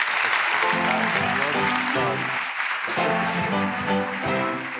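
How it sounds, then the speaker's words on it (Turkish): Studio audience applause on a Turkish TV comedy show, loud and sustained with music layered over it for the whole stretch, no talk. "Alkışlarla hepsini yerine gönderin"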